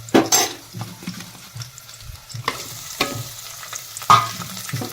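Onion and tomato frying in a pan for vegetable biryani, heard as a soft low sizzle broken by a few sharp clinks and scrapes of a spoon stirring, with no voices.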